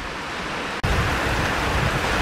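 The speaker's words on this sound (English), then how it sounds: "if you like seeing me get caught in the rain" Steady rain falls at a creek park, a dense continuous hiss that briefly cuts out and then returns heavier and louder, close and even, with no voices.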